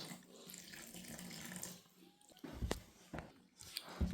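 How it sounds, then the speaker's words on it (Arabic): Warm water poured into a bowl of msemen dough mixed with vinegar and oil, a soft trickling splash with brief bursts of stirring, fairly quiet and close. "غادي ندير الماء."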